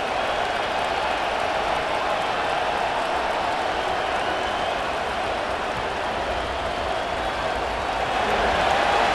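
Steady crowd roar fills a stadium in a Madden NFL 25 football game between the Detroit Lions and Houston Texans, a dense, even wash of cheering and murmur that holds at a constant level throughout.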